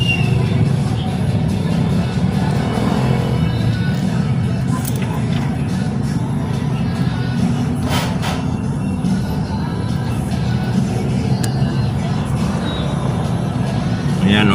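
A motor vehicle's engine runs after a battery replacement, a loud, steady, close idling rumble that continues unbroken throughout, with faint background noise on top.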